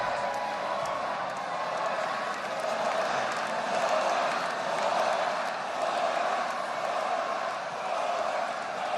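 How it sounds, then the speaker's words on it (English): A large outdoor crowd roars and cheers continuously at Zohran Mamdani's election victory speech in New York City, a dense, steady wash of voices and whoops holding level for the whole stretch without a break. "Let's listen into the crowd"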